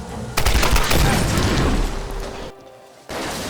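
Rapid gunfire from old-school guns in the Tomb Raider game on PS4, a loud dense burst of shots running most of the span, dropping briefly near the end before resuming.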